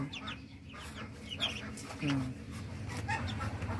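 A hen clucks softly in short bursts amid farmyard background noise, with other faint bird chirps and a person talking nearby.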